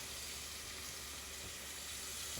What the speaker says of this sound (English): Want to render the fat and flavor from the bacon out into the oil.